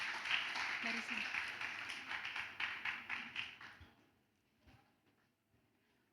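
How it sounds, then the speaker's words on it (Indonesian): An audience at an evening anniversary celebration claps together for about four seconds, a dense steady patter that quickly fades to near silence. "Kita berikan tepuk tangan."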